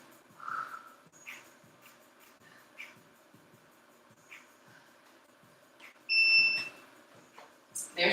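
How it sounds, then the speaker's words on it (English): An electronic workout interval timer gives one loud, steady two-tone beep lasting about half a second during a dumbbell and kettlebell leg session, over quiet room noise with faint breathing and small movement sounds. "There's your timer."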